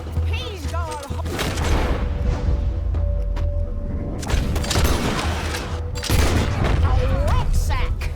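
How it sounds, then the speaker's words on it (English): A Gatling gun fires amid the chaos of a train robbery in Red Dead Redemption 2, with rapid gunfire, booms and mechanical clatter running continuously under a game voice. "That boy's gonna get on the Gatling gun."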